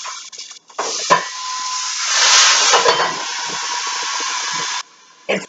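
Swordfish hitting a heated pan, a sharp burst of sizzle that swells into a steady loud hiss for several seconds, with a few clinks and soft handling noises before and after.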